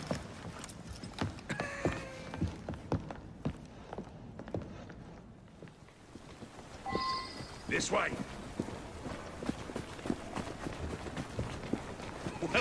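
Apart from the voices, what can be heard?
horse-drawn carriage clip-clop in video game Assassin's Creed Syndicate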